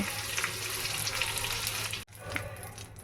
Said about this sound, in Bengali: ওই একই তেলে আমি কচুর লতিগুলোকে একটু হালকা করে ভেজে নেবো